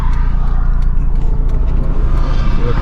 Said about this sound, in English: Traffic's starting to build up again.